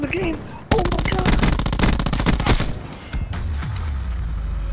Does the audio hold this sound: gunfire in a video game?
yes